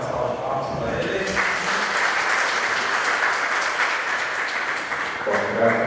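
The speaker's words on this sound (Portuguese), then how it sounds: "vou ter mais uma salva de palmas para ele" An audience claps steadily for several seconds at a morning lecture, dense and sustained applause filling the room.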